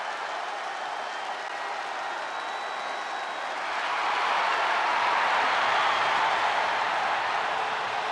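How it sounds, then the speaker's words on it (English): A wrestling arena crowd at a women's title match swells into a sustained ovation of cheering and applause, a broad roar that grows louder midway and holds steady. "Listen to this ovation."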